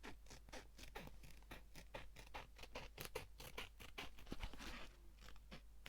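Scissors cut through a giant playing card in a fast series of close, crisp snips and scrapes, heard alone without talking.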